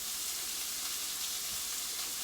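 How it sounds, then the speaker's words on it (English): Meatballs sauté in a Dutch oven alongside diced onions and carrots for Italian wedding soup, giving a steady, even, fairly quiet sizzle of frying with no talking. "we're just going to saute those brown on one side"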